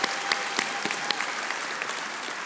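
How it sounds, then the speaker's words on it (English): A crowd at an executive MBA graduation ceremony applauds in a dense, even wash of many hands clapping, loud and sustained throughout, with no speech over it. "Give yourselves a round of applause."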